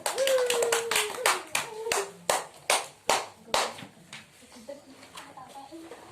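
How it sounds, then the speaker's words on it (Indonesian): Elementary pupils in a classroom give a round of applause for two classmates: sharp, loud claps in a quick run that slows and thins out, with a few scattered claps and voices trailing at the end. "Beri tepuk tangan kepada Azril dan Alan"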